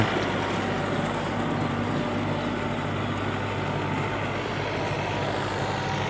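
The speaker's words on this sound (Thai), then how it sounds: "รถไถนา" A rice-field plowing tractor's engine runs steadily with a continuous, loud, close rumble that holds even throughout, with no voices over it.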